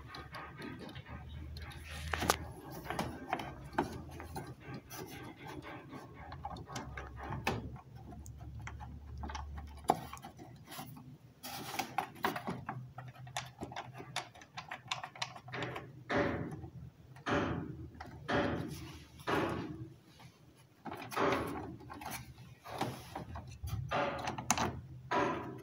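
Small clicks, taps and knocks from a washing machine part being fitted into place and its screws set during a digital washer repair, scattered irregular handling sounds close to the mic.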